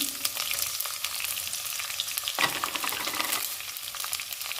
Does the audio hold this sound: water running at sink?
no